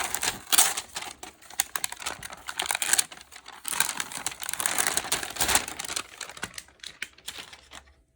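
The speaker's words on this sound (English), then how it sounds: "what you'll do is peel off the wax paper" Wax paper being peeled off the sticky glue pad of a stink bug trap, giving a long, close crackling and crinkling tear with dense, ragged bursts that trail off near the end.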